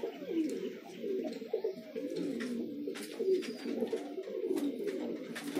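Low, throaty cooing of desi pigeons repeats continuously in Patna, Bihar, several birds overlapping nearby, with no talking.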